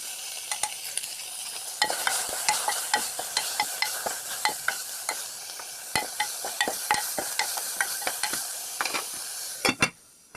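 Tomato, onion, green chilli and curry leaves with salt and turmeric sizzle steadily in a pan, with frequent sharp scrapes and clicks of a spoon stirring throughout, no talking.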